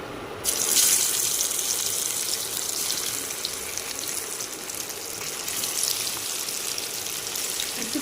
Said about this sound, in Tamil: இப்போ பொறிக்க போகிறேன் நான் வந்து என்ன காய வச்சு மீன் பொறிக்க போகிறேன்